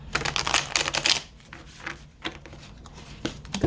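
Tarot cards are shuffled close up: a couple of quick riffling, clattering bursts, then looser scattered taps and flicks as the deck is handled.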